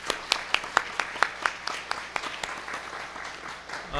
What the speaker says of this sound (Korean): 격려와 또 감사의 우리 박수 또 올려드리겠습니다.